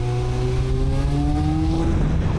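Engine of a restored Kawasaki GPX 600 R motorcycle revving loudly and steadily, its pitch climbing smoothly in a narrow alley lined with tall walls, close and continuous with no talk.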